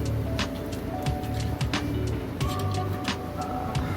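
A vortex mixer agitates a tube of settled E. coli bacteria culture in a microbiology lab, a close, continuous buzzing motor whir with a rattling edge that holds steady for a few seconds.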